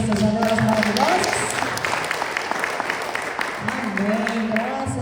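Church congregation applauding, a dense burst of clapping with a voice speaking over the start and end of it.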